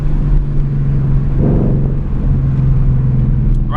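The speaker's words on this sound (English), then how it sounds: "This car is nice and loud." A 2020 Ford Mustang 5.0 with a muffler delete drones loudly in third gear at night, a steady deep exhaust rumble with a brief rise in revs midway, no talking.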